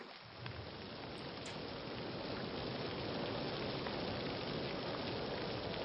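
Steady heavy rain pours down continuously, a dense even hiss of drops on surfaces that holds at a constant level from start to finish with no voices.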